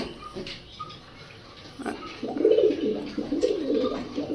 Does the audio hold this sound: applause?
no